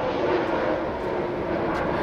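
An airplane engine drones as a steady, loud, broadband roar, close and unbroken throughout, with no speech over it.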